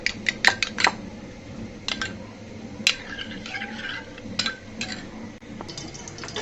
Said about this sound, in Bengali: একদম ভালো করে ফেটিয়ে নিলে ডিমের মিশ্রণটা সমান হয়ে মিশে যাবে